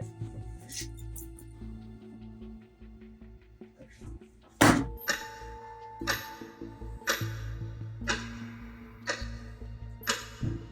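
A single loud thump from something struck against the ground stands out near the middle, a one-off signal that follows and precedes recurring clicks and light knocks, with room tone throughout.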